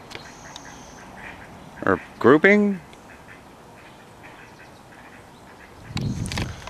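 Ducks quack a few times in a short nearby burst, loud over steady outdoor background noise. A person speaks briefly in the clip.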